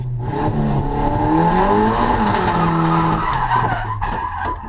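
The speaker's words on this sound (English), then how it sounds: "I loaded up the handbrake and the clutch at the exact same time, which just forced me to kind of half spin and hit a ripple strip." Car drifting on a race track during a track day, skidding into a half spin after the handbrake and clutch are applied together; a loud, continuous tire squeal with shifting engine whine runs through the whole clip, with no talk.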